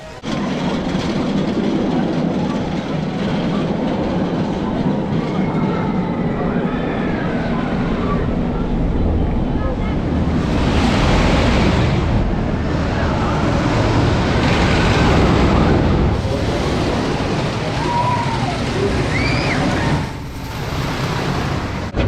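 Gold Striker, a GCI wooden roller coaster at California's Great America in Santa Clara, roars along its track in a steady loud rumble with clattering wheels and wind noise, swelling in surges throughout, with riders' voices faintly mixed in.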